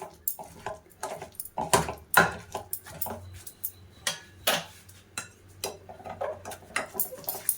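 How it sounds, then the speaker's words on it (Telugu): Drained cooked dal being mashed with a masher, a run of soft repeated thuds and squelchy clacks against the pot at an uneven rhythm, close and alone. "ముద్దకంతో మెదిపేద్దాం ఫ్రెండ్స్."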